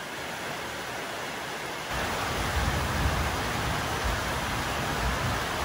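Steady rain falls in Borneo's Sabah and Sarawak region, a dense, even hiss with no talk over it, getting noticeably louder partway through as the downpour strengthens.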